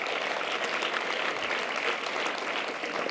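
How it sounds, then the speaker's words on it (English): Audience applause at the 26th Dusty Awards, a film and animation festival ceremony, a dense, steady wash of many hands clapping that holds evenly throughout. "Give them a round of applause."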